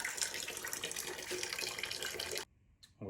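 Water drains steadily from a Kenmore washer into a bucket, a continuous close splashing and trickling rush that stops abruptly near the end, followed by a brief faint splash.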